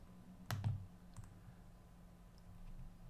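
A mouse button is clicked once or twice to hit an Upload Your Jobs button in job-importer software, a short near-mic click burst over a quiet low room hum, with faint small ticks afterward.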